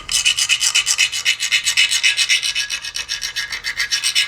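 A 65 HRC hardness test file is drawn repeatedly across forged knife steel, making a loud, close, gritty rasp in a steady back-and-forth rhythm of quick strokes, with no voices.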